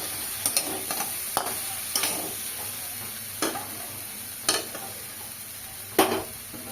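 Whole slit green chillies frying in a pan for a taro (mankochu) dish, stirred with a steady sizzle and several sharp scraping strokes spaced a second or so apart, close and moderately loud.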